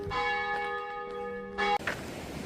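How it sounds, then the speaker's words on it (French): A church bell in the village of Arrête in the snowy Pyrenees rings out with one clear strike and a long humming decay, followed by a brief thump and rustling outdoors. "Cloche de l'église d'Arrête."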